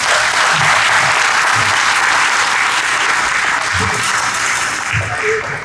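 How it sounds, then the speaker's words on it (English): Loud, sustained applause from a commencement ceremony crowd honoring a speaker, steady clapping filling the whole stretch without letting up. "Let's all give him a great big round of applause."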